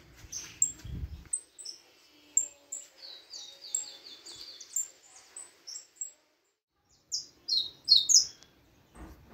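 A male canary sings in short bursts of high, bright chirps and trills, fairly clear and close, broken by brief pauses.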